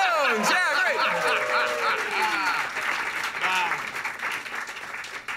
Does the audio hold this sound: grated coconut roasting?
no